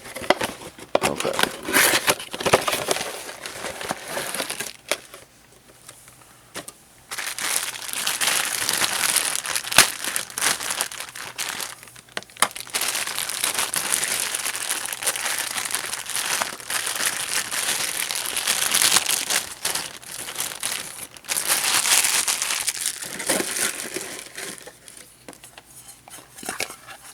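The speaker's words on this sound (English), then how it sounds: "I didn't bring my knife, so I gotta peel the tape." Packing tape being peeled by hand off a cardboard subscription box, with long crackling, ripping strips, close and loud, broken by short pauses between pulls.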